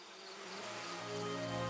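Honey bees buzz inside their hive, a dense, steady drone of many wings that swells slightly and stays close and continuous, with no voices.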